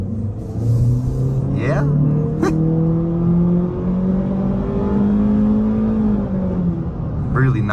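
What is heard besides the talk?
2024 Honda Civic Sport engine accelerating at full throttle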